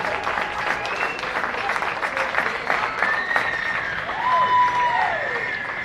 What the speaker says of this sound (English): Crowd here giving a round of applause.